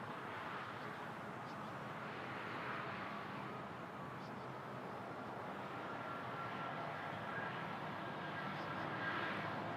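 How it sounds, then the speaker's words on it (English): Boeing 787 taking off at Toronto Pearson airport: a steady, broad jet roar holds throughout, distant but constant, swelling slightly toward the end with no pauses. "I think a 787's taking off"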